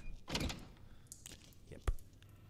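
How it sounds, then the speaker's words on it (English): A locked door in the horror game Resident Evil Village gives a heavy thunk and rattle when tried, then a second sharper knock a moment later, alone with no talk. "I bet this door's locked."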